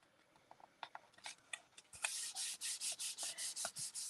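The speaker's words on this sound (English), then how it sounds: "hold it in place and rub it until it is stuck" A glued card stock piece is rubbed firmly to make it stick, starting with light scattered taps and scrapes, then a steady run of about a dozen close, rhythmic rubbing strokes.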